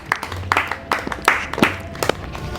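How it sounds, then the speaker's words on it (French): Students at a campus election event clap for a candidate, a short burst of scattered, uneven handclaps from a modest group, close and fairly loud, with sharp individual claps standing out. "est-ce que nous pouvons applaudir pour Mukenge?"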